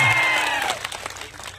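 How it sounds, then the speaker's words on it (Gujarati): Brief burst of applause from a crowd at a political rally speech, loud at first and tapering off within a second or two, with a faint voice underneath. "એમના માટે પણ જોરદાર તાળીઓ પાડીએ."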